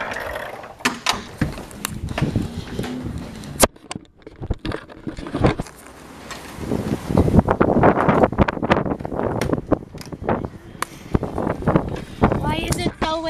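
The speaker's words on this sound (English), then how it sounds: "Why is it so windy?" Gusty wind buffets the microphone in rough low rumbles, rising and falling under bursts of nearby talking and some clicking handling noises.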